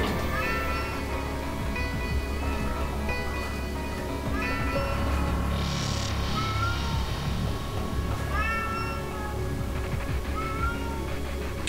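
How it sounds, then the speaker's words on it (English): A cat meows repeatedly in the video game Astral Chain, a few distinct cries standing out clearly over a dense, continuous bed of game music and ambience. "You can hear like the cat meowing, that's significant for a side quest later"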